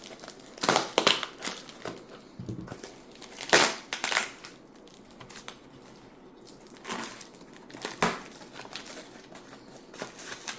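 Tape being ripped and cardboard crinkled while opening a heavily taped package holding a lot of cell phones, coming as several loud, close tearing and crunching bursts separated by quieter rustling handling noise.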